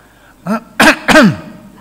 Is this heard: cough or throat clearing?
yes